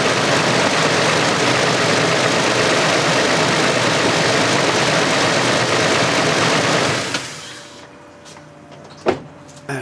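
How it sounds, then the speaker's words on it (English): A car engine idles with a steady broadband rumble for about seven seconds, then shuts off and falls quiet, followed by a couple of faint clicks. "I'm going to shut the engine off here now."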